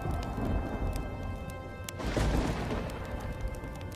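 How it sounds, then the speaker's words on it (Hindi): A crack of thunder rumbles in the middle of steady heavy rain, the downpour hissing loudly throughout while the low boom swells and fades away. "तभी आसमान में काले बादल छा जाते हैं और जोर जोर से बिजली कड़कने लगती है"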